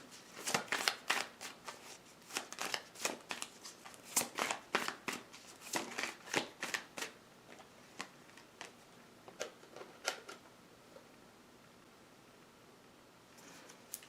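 Tarot cards being shuffled and drawn, a burst of crisp riffling flicks and snaps close by, thinning into sparse soft card handling toward the end with no speech.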